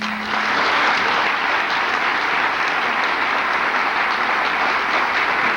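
A lecture hall audience at K-State gives steady, loud applause welcoming historian Dr. Howard Zinn, dense and sustained throughout with no talking over it.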